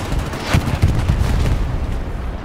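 Deep rumbling blasts from a bombing run in the WWII shooter Hell Let Loose, a steady heavy roar with a few stronger thuds and no pause.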